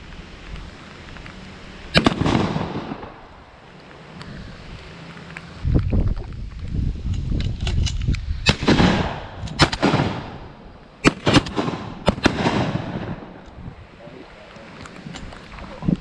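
Shotgun blasts ring out on a rainy early-season wood duck hunt in Kentucky, several loud sharp shots spread across the stretch, some in quick pairs, echoing over open water.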